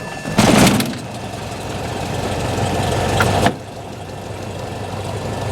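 A Cessna 172 engine at startup: a loud cranking burst, then a steady low engine rumble settling toward idle, close by and without talk.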